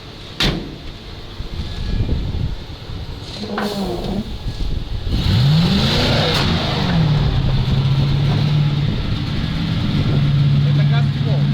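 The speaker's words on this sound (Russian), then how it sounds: "И газ в пол давлю, не раскручивается мотор почему-то опять" A ZIL truck engine revs at full throttle and holds at a steady high pitch, droning loudly and failing to rev higher, after a door-like thud and some shuffling at the start.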